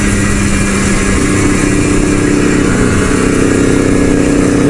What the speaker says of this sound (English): That Honda 750 sounds pretty rad there.